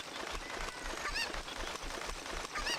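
A cucco chicken clucking in the video game Zelda: Ocarina of Time, two short high squawks over steady game background noise, moderately loud and separated by about a second and a half.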